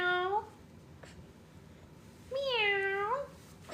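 A person's voice imitates a cat's meow twice, two drawn-out rising-then-falling meows separated by a quiet gap, close and clear.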